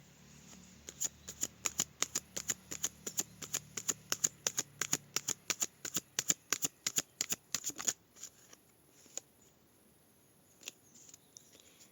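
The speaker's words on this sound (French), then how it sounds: "Allez, on fait sauter 3 cartes." A deck of playing cards is shuffled in a quick, steady run of crisp riffling snaps for about eight seconds, then a few scattered card flicks and soft handling sounds follow in a quiet room.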